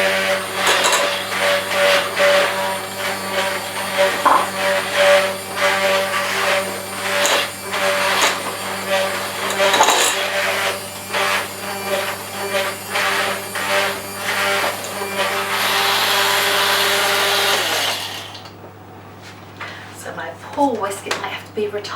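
Wire whisk beating Victoria sandwich cake batter of egg and flour in a bowl, a busy continuous scraping and clattering that stops abruptly near the end, with a person speaking.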